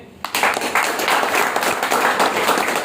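A seated audience at a motivational talk breaks into loud, sustained clapping that starts abruptly and stays dense and even to the end.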